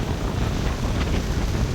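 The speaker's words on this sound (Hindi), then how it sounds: "हवा चल रही है" Wind gusts steadily across a fast-flowing river beside a village, a continuous loud broadband rush with no break and no voices.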